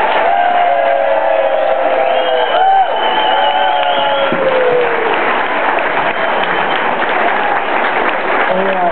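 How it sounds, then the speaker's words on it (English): Crowd applause with scattered cheers at a primary election victory party for Martin Heinrich, a steady loud roar of clapping through the whole stretch, with voices and a few whoops mixed in. "So let's give him a big hand."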